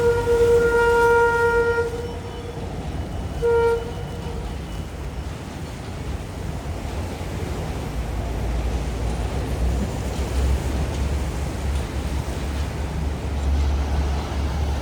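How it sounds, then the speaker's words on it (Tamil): An express train rumbles across a bridge beside Wellawatte beach, opening with a loud horn blast and a second short toot, then a steady low roar of wheels on rails mixed with surf that continues to the end. "இப்போ இந்த ட்ரெயின் இந்த பாலத்துக்கு மேலே போகிற இந்த வியூவை பாருங்கள் எப்படி இருக்குன்னு"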